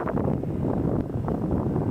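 Steady low wind buffeting a microphone near the water at the Imperial Palace grounds in Tokyo, a continuous rumbling roar with no pauses across the short stretch.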